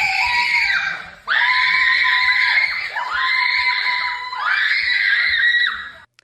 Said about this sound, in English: his little girls shrieked every time Taylor Swift came up on screen